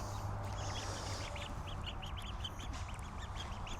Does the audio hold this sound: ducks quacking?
yes